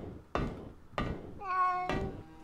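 Two sharp thumps ring out in the video game Stalin Subway Red Veil, then a cat gives a single clear meow. A third thump lands right at its end.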